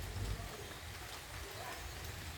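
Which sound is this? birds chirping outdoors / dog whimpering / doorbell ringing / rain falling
rain falling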